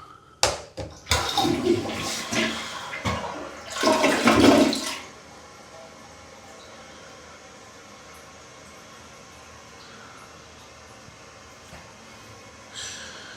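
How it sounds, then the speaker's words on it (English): A ProFlow toilet flushes in a hotel bathroom, a loud close rushing whoosh with gurgling bursts over the first five seconds, then a long quiet refill hiss. "So our toilet, a ProFlow."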